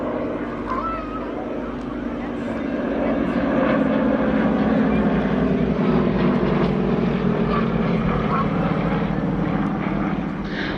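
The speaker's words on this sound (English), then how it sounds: "Plenty of power, 360 horsepower from the big Vedenev radial engine up front, which equips all sorts of light and sporting and utility aircraft built in the former Soviet Union." A light aircraft with a 360-horsepower Vedeneyev radial engine drones steadily overhead at an airshow, the engine noise swelling louder midway and holding as a continuous rough roar, with a commentator's voice faintly under it.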